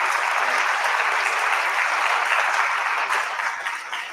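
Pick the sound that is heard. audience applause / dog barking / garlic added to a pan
audience applause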